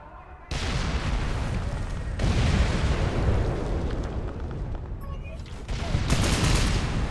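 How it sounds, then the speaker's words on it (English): Tom Clancy's Ghost Recon firefight: a grenade goes off with a sudden heavy boom, followed by sustained rumbling gunfire and further loud bursts, with players talking faintly underneath. "Oh, that nade's coming."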